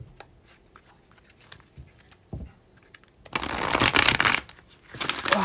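Tarot cards handled and shuffled close up, with soft scattered taps and slides giving way to a louder dense riffling burst about two seconds long, then a final rustle, with no talking.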